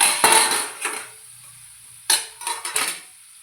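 A metal lid lifted off a cooking pan: a sharp clatter of metal on metal followed by several quick, close clinks and taps in two bursts, with quiet between them.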